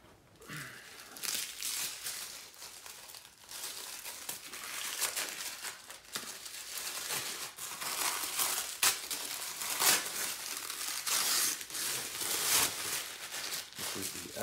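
Plastic wrapping crinkles and tears as it is pulled off a Roja Dove Essence Rare perfume box with stickers and tape, a steady close rustling and crackling that runs throughout.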